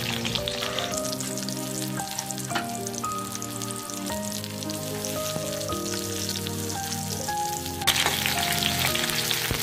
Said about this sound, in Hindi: तेल अच्छा गर्म होते ही उसमें हम सबसे पहले लहसुन डाल देंगे, फिर प्याज डाल देंगे